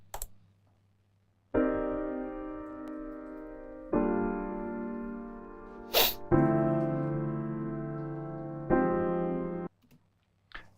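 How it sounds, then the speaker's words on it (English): Dry piano chords with the effect bypassed, four sustained chords struck one after another, each ringing and slowly decaying before the next, with a brief clicky noise between two of them. "So just a nice piano chords"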